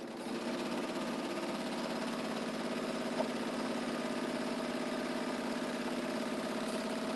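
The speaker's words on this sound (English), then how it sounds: "I'm just going to sew part of this strip so that we can make a little headway on this." A serger sewing machine stitches a fabric strip for a log cabin pillow project, giving a steady, fast, even mechanical whir that runs without a break and with no voices.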